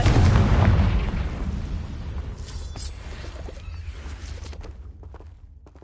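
Confringo spell explosions from a Harry Potter-style video game: a loud, booming blast at the start that rolls into a long, rumbling decay, with scattered crackles trailing off as it fades.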